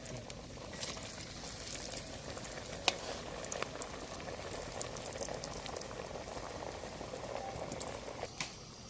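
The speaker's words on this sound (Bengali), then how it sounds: "আলু টিক্কাগুলি এখন ভেজে নিলাম।" Aloo tikki potato patties sizzle in hot oil with a steady, dense crackle and bubbling hiss, close and even throughout, with a few brief louder pops.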